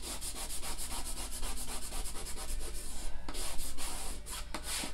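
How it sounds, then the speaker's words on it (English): A scraper drags over a surface coated in softened chalk paste, producing close, continuous rasping strokes in a quick repeated rhythm with a few sharper scrapes. "So as you see, the chalk paste is all softened on here, and we're just using our scraper to remove it."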